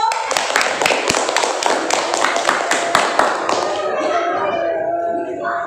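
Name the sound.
class applauding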